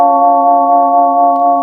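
Vibraphone with the vibrato motor running, struck with a medium mallet: a single sustained, steady bell-like tone ringing out alone for the whole stretch.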